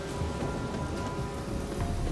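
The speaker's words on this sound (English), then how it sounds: "there is a storm in there" Steady rain and a storm in The Witcher 3 game, a dense continuous hiss with low rumbling underneath, even and moderately loud with no talk.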